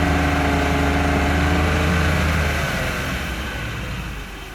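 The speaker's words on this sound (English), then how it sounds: "bring her back to idle" The engine of a Chaparral boat on a lake idles with a loud, steady low rumble close by, easing slightly quieter toward the end, with no talk.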